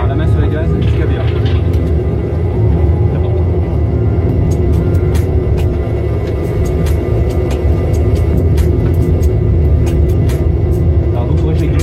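Boeing 737-800 NG jet engines spooling to full throttle in a flight simulator, a steady loud low roar and rumble filling the cabin, with crew voices talking over it.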